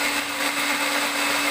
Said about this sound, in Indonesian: Blender bumbu hingga benar-benar halus.